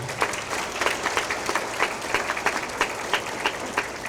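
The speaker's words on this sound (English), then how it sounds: "Please give a hand of applause." An audience at a centennial gala claps steadily throughout, a dense crowd applause with individual claps popping out in a lively, continuous patter.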